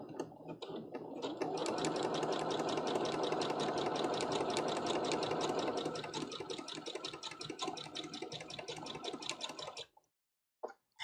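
A sewing machine quilting a Big Mom Jolly Roger cosplay piece, stitching in a fast steady rapid-fire rhythm for about nine seconds, then stopping with a few faint clicks, close and alone.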